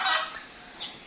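A guinea fowl kept on a raised-floor farm in a converted pig pen gives a single harsh, loud call up close, followed by fainter trailing cries.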